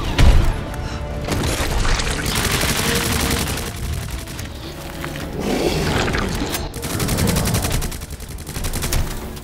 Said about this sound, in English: Did I really just miss all those shots?